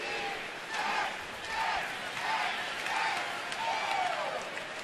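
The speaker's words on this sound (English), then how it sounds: "probably wondered what the crowd was doing, making all that noise" Baseball stadium crowd at a Cubs–Nationals game cheering in loud, swelling waves, roaring up and easing back several times, with excited voices and some clapping in the mix.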